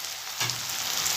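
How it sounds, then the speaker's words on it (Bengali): Onion frying in hot oil for a tilapia fish curry with taro, a continuous close sizzle that swells slightly as the pan is stirred, with no talking. "পেঁয়াজটা একটু ভাজা ভাজা করে নেব"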